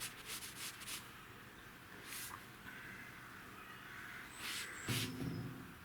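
A hand rubs across a wall freshly painted in LimeLike Dover White lime paint, making faint, soft scuffing strokes in several short bursts, close and quiet.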